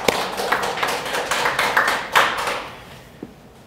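A church congregation at a Sunday worship service applauds, a sustained patter of many hands clapping at moderate volume that fades out over a few seconds, with no talking over it.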